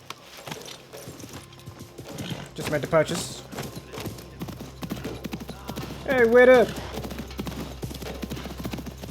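Rhythmic horse hooves clip-clopping in Assassin's Creed Mirage, with voices talking over them and a brief louder vocal burst midway.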